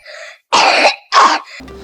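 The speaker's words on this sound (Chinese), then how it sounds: "这是湿性咳嗽，" A wet, phlegmy cough: two loud, rattling bursts close to the mic, separated by a brief pause, with a faint breath after.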